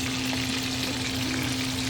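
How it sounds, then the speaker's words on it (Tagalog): Fish frying in a pan at home as part of a dinner of eggplant and bitter melon, a steady close sizzle and crackle of hot oil running continuously with no talk. "ako'y nagpiprito ng isda"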